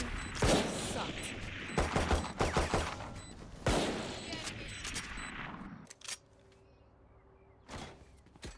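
Shotgun blasts in a tactical shooter game come in a dense burst of loud, sharp reports over about six seconds, then a quieter tail broken by two more isolated shots.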